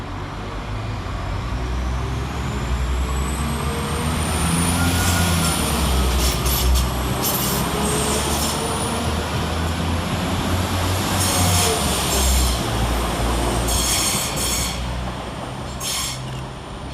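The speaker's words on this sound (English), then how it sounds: "Departing with the 1445 Northern service from Leeds to Manchester" Two coupled Northern Class 195 diesel units, 195014 and 195012, pull out of Halifax station with a steady engine drone, rising whine and intermittent wheel squeal, loud and continuous.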